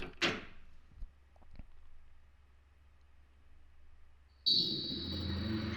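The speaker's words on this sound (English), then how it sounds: "he checks to make sure no one is watching and turns the doorknob" A door in Song of Saya unlatches with a soft click and a faint knock, a brief quiet pause, then a hissing, droning ambience swells as it opens.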